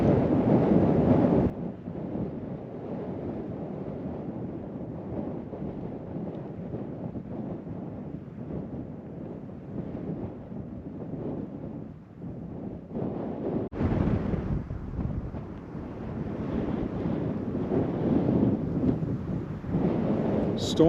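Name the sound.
wind before an approaching storm in Wyoming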